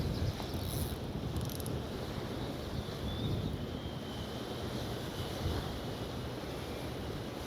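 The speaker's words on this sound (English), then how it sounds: "this wind is really getting up" Wind blows steadily over the open sea during boat fishing for bass and black bream, a constant broad rushing roar with gusty buffeting, no talking.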